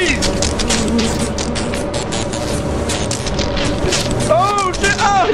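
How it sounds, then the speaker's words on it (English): Electric lightning bees in the game Lethal Company give off a dense crackling, buzzing drone with sharp electric zaps, loud and continuous, under excited voices. "Oh my god, what is that? Oh. Ah. Jeez. Lightning bees?"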